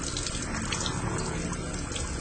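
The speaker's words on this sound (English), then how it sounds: "Everybody that comes in takes a shower." Shower water runs in the changing area of an underground lab, a dense, steady hiss and spatter that is loud and close throughout, with no pauses and no voices.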